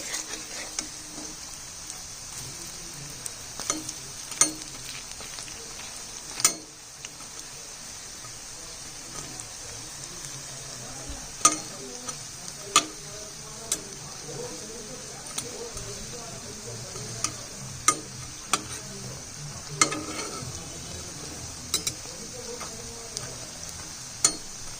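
Food frying in a pan on a gas stove over low flame, a soft continuous sizzle under a voice, punctuated by scattered sharp clicks and taps of a spatula across the whole stretch.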